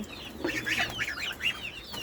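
Several chickens and chicks clucking and chirping close by on a small home farm with ducklings, a busy run of short calls that continues throughout.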